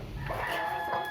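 Several chickens cluck and murmur close by in a short burst, soft overlapping calls against a steady background hum.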